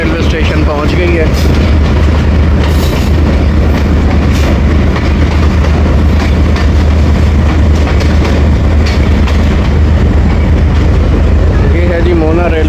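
The 2 Down shuttle train rumbles loudly at Mona railway station, a dense, continuous low roar of wheels and carriages close at hand, steady from start to finish.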